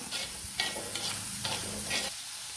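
Thinly sliced ginger, garlic and green chillies frying in a pan for a coconut-milk fish curry, a continuous soft sizzle with several bursts of stirring scrapes from a spoon, close and without speech.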